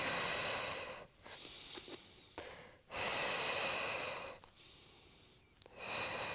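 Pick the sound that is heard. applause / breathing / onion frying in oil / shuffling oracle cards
breathing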